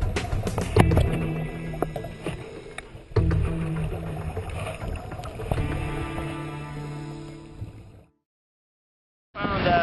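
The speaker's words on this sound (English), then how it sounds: "You can hear the boats coming." Boats heard from underwater near the sea bottom off Punta Cana, a deep continuous engine and propeller rumble with rhythmic throbbing that swells and fades, cutting to silence near the end before a brief burst returns.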